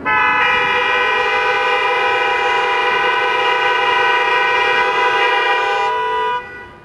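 Many car horns blare together in one sustained chord during a road-death memorial, twenty-four vehicles sounding at once, loud and steady for about six seconds before cutting off.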